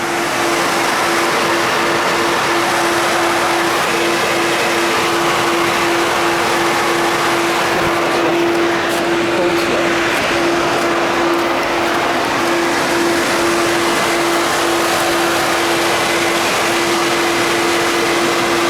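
Tesla Model S 60 supercharging at a station in Mauston, giving off a loud, steady whir with a constant tone that holds alongside broadband fan rush throughout, with no speech.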